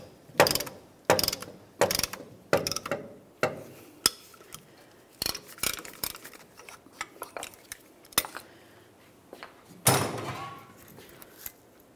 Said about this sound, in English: Now we can continue on with our dual piston caliper depression tool.